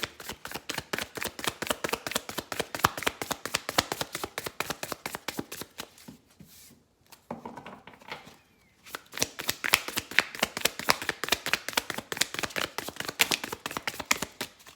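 Tarot cards riffle and snap in rapid, rhythmic bursts of crisp slaps, pausing briefly for a quiet moment before the brisk shuffling resumes, close and clear with no talking.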